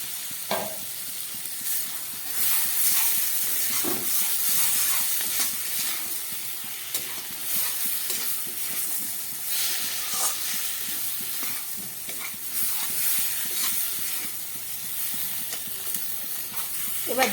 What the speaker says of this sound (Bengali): এবার আমি এর মধ্যে এই ভেজে রাখা চিংড়ি মাছগুলো দিয়ে দিচ্ছি।